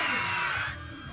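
Gen Z fans at a mall show in Alaminos City, Pangasinan, a brief burst of high-pitched screaming and cheering from the crowd that fades slightly toward the end.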